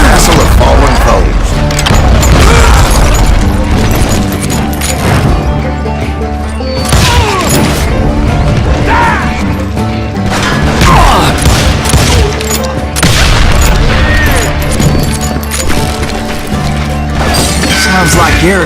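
Sustained battle noise from the Western shooter game Call of Juarez: Gunslinger, with continuous rattling gunfire, booms and crashes, loud and dense throughout, with a voice talking over the fight.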